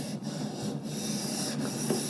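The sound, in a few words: hand sanding car body filler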